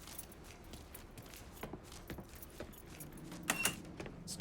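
Keys jangle as they are picked up in Mafia III, a series of light metallic clinks and rattles, close and fairly quiet, peaking in a brief brighter jingle near the end.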